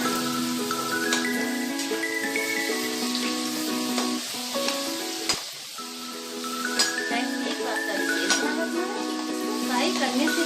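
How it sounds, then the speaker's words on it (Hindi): Pieces of suji namkeen sizzle and crackle steadily in hot oil, close and continuous with dense bubbling and a brief dip midway, while a stirring utensil moves through the pan. "अब हम इसमें पीसेस को डाल के फ्राई करेंगे।"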